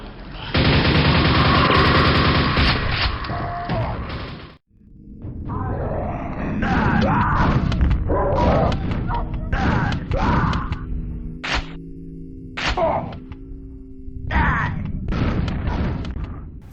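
Quake video game combat: loud bursts of weapon fire and deep, bass-heavy explosions from grenades and rockets, a continuous dense barrage at first, then a short gap followed by scattered blasts, grunts and clanks.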